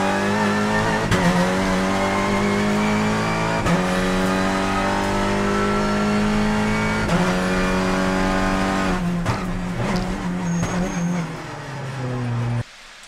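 A race car pulls away with a loud sustained engine drone and a sharp bang as the gearbox engages partway through, the note dropping and changing as it shifts; no talking.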